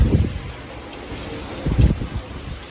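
Strong gusts of wind and rain from Tropical Storm Isaias in New York or New Jersey, roaring into the microphone in two heavy bursts over a steady rushing background, with no one talking.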